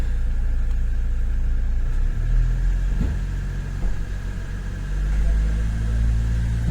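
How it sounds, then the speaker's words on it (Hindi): A Toyota Fortuner's engine, with a turbocharger actuator fault code, rumbles at idle and rises briefly in pitch as the accelerator is pressed, a steady mid-level hum with a couple of swells, no talk. "अब एक बार एक्सीलेटर वगैरह देकर देखते हैं क्या कोड वापस आ रहे हैं।"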